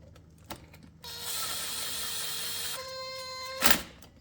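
A ratchet wrench tightens the front brake bolts on a 2003 Suzuki LTZ400 / Kawasaki KFX400 ATV, giving a sustained close mechanical whir of rapid clicks for a few seconds, then a sharp clack near the end.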